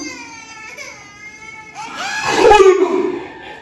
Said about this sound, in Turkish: Bebek ağlama sesi geliyor.